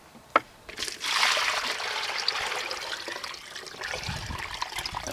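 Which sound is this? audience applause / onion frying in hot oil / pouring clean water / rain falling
pouring clean water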